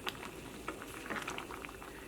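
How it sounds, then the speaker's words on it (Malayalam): Quiet, continuous bubbling and popping of a thick egg and lentil curry simmering in a pot, close by. "ഈ കറി നന്നായിട്ടൊന്ന് തിളച്ച് കഴിയുമ്പോൾ നമുക്ക് തീ ഓഫ് ചെയ്യാം"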